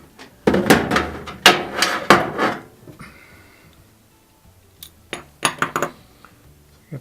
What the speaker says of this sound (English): Take out this bottom bolt and then we'll do one there at the top.